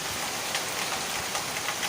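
Steady rain pouring down, a continuous even hiss of drops with no voices.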